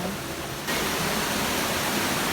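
A steady, loud roar of falling water at Lambingan Falls in Magdagooc, Agusan del Norte, heard close up. The rush swells a little after the first moments and then stays constant and broadband.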